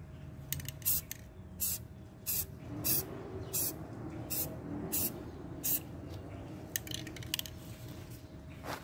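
Short hissing bursts of spray paint from an aerosol can onto a stencil for an arctic camo paint job, repeated in a loose rhythm at close range, over a faint steady background hum.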